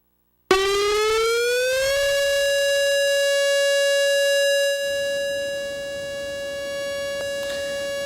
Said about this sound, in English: So what you hear there is a tornado siren.